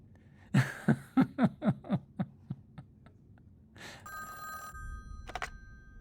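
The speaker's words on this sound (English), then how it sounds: "Oh, phone's ringing." An old-style telephone bell rings in a rapid series of about eight fading metallic trills, then a brief electronic tone and a burst of higher ringing follow over a low background rumble, with no talking.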